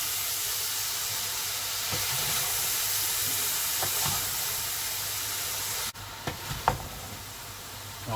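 Chicken and cabbage curry being stirred in a hot pan, giving a steady close hiss of sizzling with scattered scraping clicks from the spoon, the texture shifting after a brief drop near the end.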